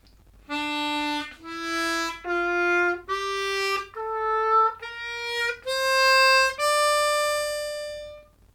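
A harmonica plays a D natural minor scale, eight clear notes stepping upward one at a time, the last held longest.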